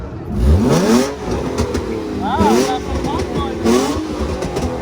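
A Nissan 350Z-exhaust-equipped car engine revs up and down repeatedly, the exhaust note rising and falling loudly and close by, with people talking over it.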